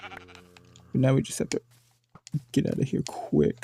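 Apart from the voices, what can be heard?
sheep bleating in Minecraft video game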